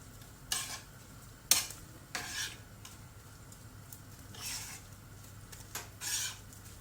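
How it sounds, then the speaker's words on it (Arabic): Onions sizzle in hot oil, with a few louder stirring scrapes and clinks against the pan breaking through the steady crackle. "دابا غادي نبداو نشحروا ديك البصله مع الكفته ديالنا"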